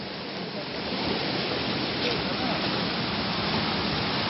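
The Tăleajen river in Romania rushes continuously beneath a bridge in a steady, fairly loud hiss and roar, heard from close by.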